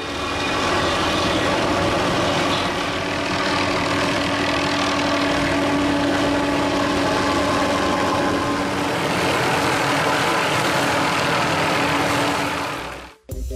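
A helicopter fitted with a suspended cutting mechanism trims trees near power lines, its loud, steady rotor and engine drone holding unbroken for the whole stretch before cutting off abruptly at the very end.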